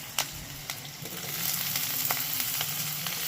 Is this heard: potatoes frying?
yes